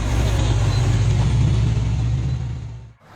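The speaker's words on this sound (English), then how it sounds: "The Scania 112 Tatu roars gracefully down the rugged Camino Pinar de los Rios in Calamuchita, Córdoba." A Scania 112 truck on a rugged gravel mountain road in Calamuchita, Córdoba, its engine a loud, steady low rumble close by that holds for about three seconds, then cuts off abruptly.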